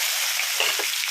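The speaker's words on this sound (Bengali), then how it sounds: "সর্ষে ফোড়ন দিলাম এইভাবে" Mustard seeds sizzling in hot oil, tempered for a Bengali fish curry, giving a close, steady bright hiss with faint crackles throughout and no talk.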